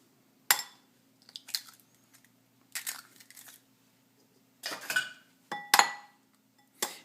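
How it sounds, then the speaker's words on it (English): Eggs are cracked and separated for Greek egg-lemon soup. Sharp taps of shell against a bowl and small clinks come in quick bursts, spaced apart and close by in a quiet kitchen. "the first thing that we need to do is we need to separate 3 eggs"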